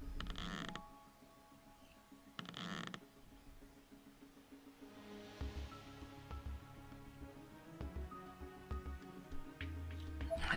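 Creaking door in the horror video game Corpse Party, a few sharp mechanical clicks and low creaks set against quiet eerie ambience, faint and sparse.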